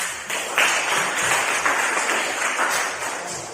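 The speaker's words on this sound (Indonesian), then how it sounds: "Kita beri aplaus untuk mereka" A classroom gives students a round of applause: dense, steady clapping from many hands, close and lively, lasting the whole stretch.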